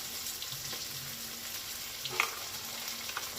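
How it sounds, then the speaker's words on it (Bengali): Ginger garlic paste fries quietly in a pan with tomato and capsicum, giving a soft, even sizzle and a few faint scrapes of stirring. "এবার এই আদা রসুনটা খুব ভালো করে ভেজে নেব"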